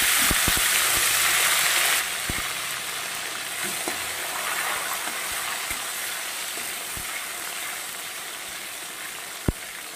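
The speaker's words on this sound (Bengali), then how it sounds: "ফোড়নটা ভাজা হয়ে গেছে, এই পর্যায়ে দিয়ে দেব আমি একটা টমেটো।" Tomato frying in hot oil over a spice tempering, giving a steady bright sizzle with a few sharp clicks of stirring and one loud knock near the end.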